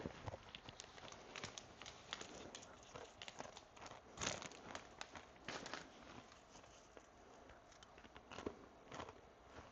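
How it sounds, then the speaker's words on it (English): Close, crisp crunching and crackling as potato chips are bitten and chewed, in irregular bursts over quiet background, recorded while travelling in South Korea. "You can hear me crunch."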